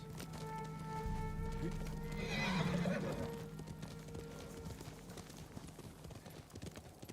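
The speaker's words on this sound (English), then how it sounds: "Horse." A horse in the game Ghost of Tsushima gives a loud whinny over steady hoofbeats, with a continuous clip-clop of galloping running under a droning musical score.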